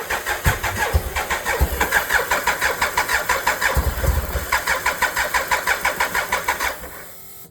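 A 1988 BMW K75s motorcycle engine cranks without starting, giving a fast, even, rhythmic churning that runs for about seven seconds before cutting off.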